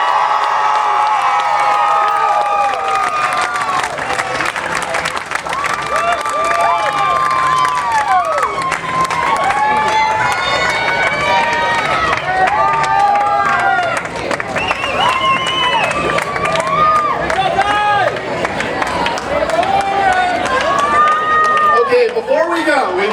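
A crowd cheers and applauds for a Little League state champion team at a street fair opening ceremony. There are loud sustained whoops, shouts and clapping throughout, with overlapping voices and children yelling.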